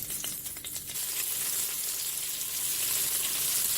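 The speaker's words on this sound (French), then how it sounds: "et que je vais faire rissoler." Sliced onion sautéing in sunflower oil inside a Cookeo multicooker, a soft, steady sizzle with a few faint clicks near the start, heard alone.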